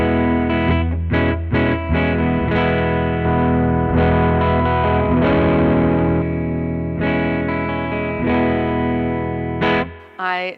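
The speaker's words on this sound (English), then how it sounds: "I'm going to play the humbucker, and then I'm going to split the coil." PRS SE CE 24 Standard Satin electric guitar played through its neck humbucker with the coil split, loud distorted chords and picked notes with effects and reverb, close and continuous, with no voices.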